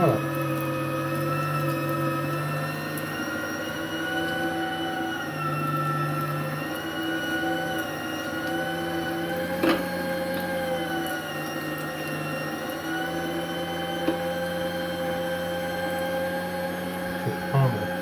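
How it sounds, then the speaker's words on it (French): A kitchen food processor runs steadily with a loud motor whine and grinding as it chops garlic and a piece of meat for a country pâté, continuous throughout with no talk. "Là, je vais mettre un peu d'ail, hop, dans le robot."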